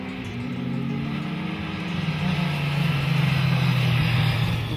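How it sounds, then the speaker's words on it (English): Race cars on an airport runway raceway in Alaska, a steady loud engine drone with pitch sweeping as cars pass and build, heard from trackside with no voices. "the rest of us took up positions along the raceway to watch a bit of the races."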